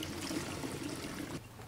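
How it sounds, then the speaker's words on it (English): A gallon of water is poured into a container for mixing neem oil and castile soap, a steady trickling splash that runs then cuts off abruptly near the end. "I'm going to pour 1 gallon of water inside of here."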